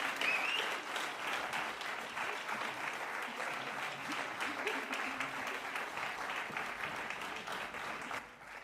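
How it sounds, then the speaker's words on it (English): Sustained applause from an audience in a Vienna hall for a choir, a steady dense wash of many hands clapping continuously until it tapers off at the end. "One more applause"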